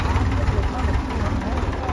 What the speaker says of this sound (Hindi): ये लो चला ये ट्रैक्टर